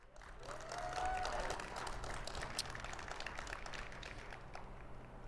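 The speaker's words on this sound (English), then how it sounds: "Let's give a round of applause to all of them." An audience at a nonprofit fundraising gala applauds in a dense, continuous wash of clapping. It sounds somewhat distant and moderately quiet, with faint room noise underneath and no clear speech.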